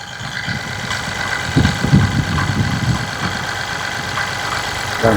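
A 2013 or 2018 Mahindra vehicle's engine idles steadily after being started, a close, continuous low rumble with a few slightly louder bumps and no talking.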